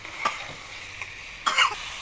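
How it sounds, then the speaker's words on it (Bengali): Chicken pieces are stirred through fried spice paste in a hot pan, producing a steady sizzle with a few louder scraping bursts of the spoon, close and unaccompanied by speech. "এটাকে আমি এখন একটু এখানে নেড়ে নিচ্ছি"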